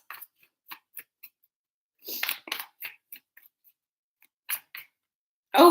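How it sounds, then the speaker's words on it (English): A deck of tarot cards is handled and shuffled in short bursts of crisp flicks and riffles, scattered clicks separated by quiet gaps, close and clear. "Let's do a couple more shuffles"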